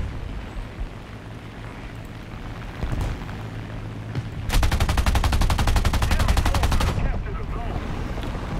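.50 cal machine guns firing in the tank game War Thunder, a loud sustained burst of rapid, evenly spaced heavy shots lasting a couple of seconds over a steady engine rumble, with an earlier single thud; no talking.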